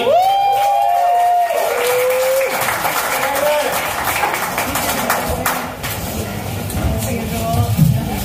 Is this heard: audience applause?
yes